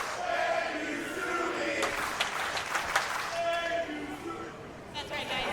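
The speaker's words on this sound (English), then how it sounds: "Crowd showing their gratitude for Sumi Sakai." A wrestling event crowd applauds and cheers in an arena, a dense, continuous wash of clapping and voices with a few calls rising out of it.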